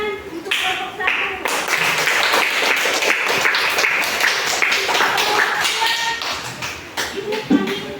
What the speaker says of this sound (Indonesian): Ya, anak-anak tepuk tangan untuk kelompok satu.